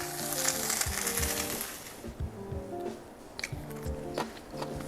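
Vegan food, sweet potatoes and oyster mushrooms in asada marinade, sizzles and crackles on a hot grill. A bright steady hiss thins after a couple of seconds into quieter popping and faint stirring scrapes.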